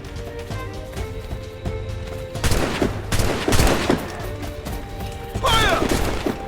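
Gunfire in an Assassin's Creed Rogue naval battle, with loud overlapping musket and cannon blasts bursting in uneven clusters over a continuous low rumble of combat.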